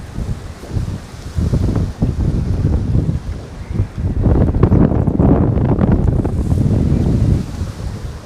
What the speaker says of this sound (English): Wind's kind of out of the south. It's kind of kicking up a little bit.